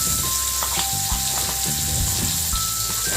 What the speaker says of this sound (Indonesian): Lalu kita tumis untuk sambal yang tadi sudah kita blender.